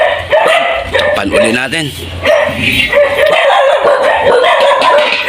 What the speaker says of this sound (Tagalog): pasensya na po itong ingay ng aso